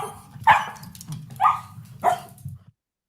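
A small dog barking, three sharp, fairly close barks spaced about a second apart, then silence.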